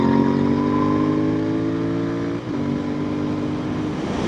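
Royal Enfield Continental GT 650 twin exhaust on a winding road, a close steady engine note that holds, dips briefly as the throttle eases, then resumes at a slightly lower pitch.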